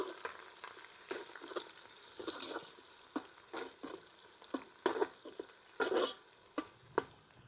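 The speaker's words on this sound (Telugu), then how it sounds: "ఆయిల్లో ఉల్లిగడ్డలు పచ్చిమిర్చి మగ్గాలి" Chopped onions and green chillies fry in oil for a mutton curry, with a steady low sizzle broken by irregular spatula scrapes and knocks against the pan.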